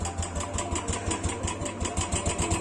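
A Royal Enfield Bullet motorcycle with an open exhaust, kick-started on a cold day, settles into a steady, fast thumping idle, close and fairly loud, running alone without voices.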